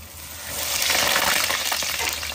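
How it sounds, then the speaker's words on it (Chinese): Chicken cutlets fry in a pan of oil, a close, bright bubbling sizzle that swells in intensity after the first half second and stays strong and steady. "换锅开始炸鸡排"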